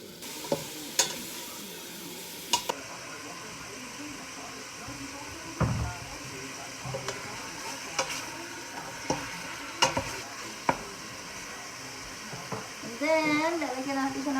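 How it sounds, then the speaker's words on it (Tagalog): Pork sizzling and frying in a pan while being stirred for Filipino nilagang baboy, with steady close sizzle and several sharp clanks of the utensil against the pan, and a brief bubbling near the end. "Igigisa ko muna siya."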